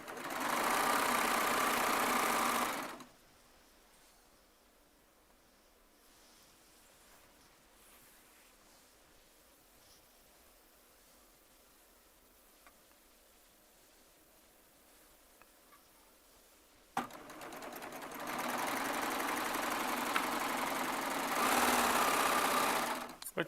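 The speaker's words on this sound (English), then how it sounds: "Just want to make sure you do a wide enough stitch so the selvages are cut off." A Baby Lock Triumph serger stitches and trims selvages off fabric in two loud, steady runs, one at the start and a longer one at the end, with a quiet pause between them.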